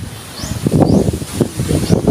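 Strong typhoon wind gusts buffet the microphone with a rumbling roar, surging and easing, mixed with rustling leaves and faint whistling.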